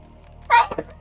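One person sneezes once, close and loud, a quick two-part burst in an otherwise quiet room.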